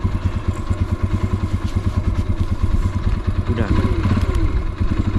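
A motorcycle engine idles unevenly near at hand, its low rhythmic chugging rising and sagging as it struggles to keep running, with a person talking briefly over it.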